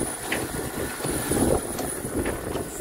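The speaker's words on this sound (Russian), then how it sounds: "Самолет." A steady aircraft engine drone inside a Kenya Airways airplane cabin on a Mombasa to Nairobi flight, a constant rumbling hum with a faint high whine and occasional soft knocks.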